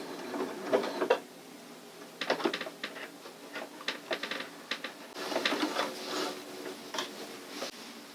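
A sewing machine stitches a girl's circle skirt in short bursts of quick mechanical rattling, pausing briefly between runs, close and moderately loud with no talking.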